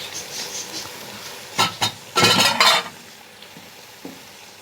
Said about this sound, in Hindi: ये 10-15 मिनट तक भूनना है।